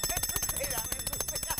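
A bright bell sound effect rings in rapid repeated strikes, brief and shrill, with a voice talking underneath.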